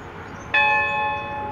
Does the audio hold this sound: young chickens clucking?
no